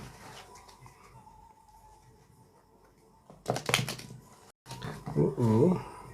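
Tarot cards being shuffled, a couple of quick papery riffling bursts up close, separated by quiet moments, with someone speaking softly in between.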